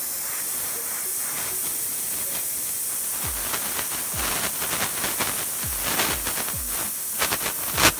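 A 2500 watt homebuilt HHO torch cutting through a hose or metal: a loud, constant roaring hiss with repeated crackling pops and sputters that grow busier toward the end.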